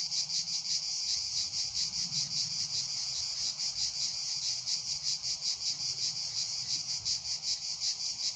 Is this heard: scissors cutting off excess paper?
no